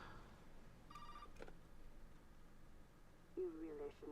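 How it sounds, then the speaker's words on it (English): An in-game telephone rings in Resident Evil 7's guest house, a faint electronic trill heard in two short bursts amid quiet ambience, with a louder tonal ring near the end. "And the phone's going to ring once you walk down here."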